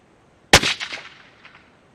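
A single loud, close gunshot from a PRC-chambered rifle fired at a range while checking velocity, a sharp crack followed by a short, rolling echo that fades over about a second.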